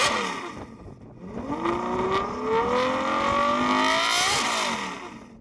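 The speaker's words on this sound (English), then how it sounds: "Now let's try the Ferrari, but I should tell you something about it. It's actually been fitted with a Novitec upgraded exhaust," A Ferrari V12 fitted with a Novitec upgraded exhaust revs hard, its loud, close engine note climbing steadily in pitch, then dropping away briefly before another surge, with no voices over it.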